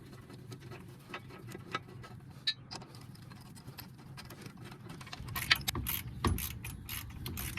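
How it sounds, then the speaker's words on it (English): A ratchet clicks as it tightens transmission mount bolts on a 2009–2012 Ford Escape 2.5L, with quiet rapid pawl ticking that grows louder and busier toward the end, close by. "So tighten everything with your ratchet"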